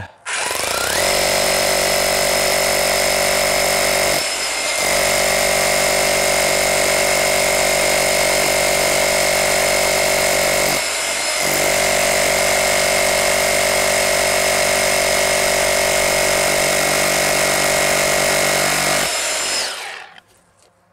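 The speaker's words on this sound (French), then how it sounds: "On se met en mode perçage, on est en 10 mm et c'est parti." A Bosch GBH 18V-34 CF cordless rotary hammer in drilling mode bores a 10 mm hole with a loud, close, steady hammering drone, broken by two brief pauses before stopping.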